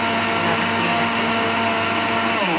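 A kitchen blender grinds lentils with a loud, steady motor whir and gritty churn that holds without a break from start to finish.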